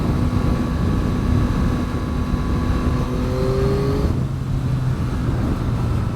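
A Yamaha MT09 motorcycle accelerates while riding, its engine droning loudly and climbing steadily in pitch before a shift drops the tone, heard up close without talk.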